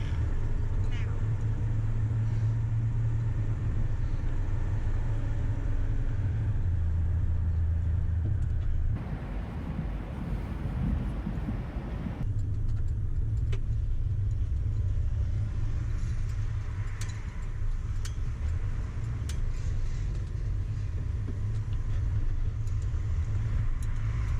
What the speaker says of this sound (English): we're going to go for a drive in this beautiful car through the Adelaide Hills